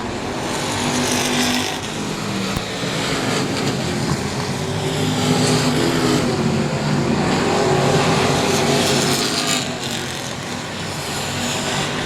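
Race cars roar around the track at Texana Raceway Park during a regular race program, a loud continuous engine drone with rising and falling passes throughout.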